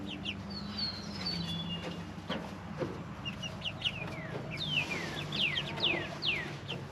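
Pasture-raised chickens and chicks cluck and peep in an outdoor pasture, with high chirps scattered throughout and thicker toward the end, moderately close over a soft background.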